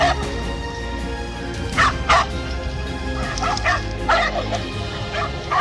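Pit bull dogs fighting a giant python let out repeated sharp barks, yips and whimpers in short bursts over a steady low background noise.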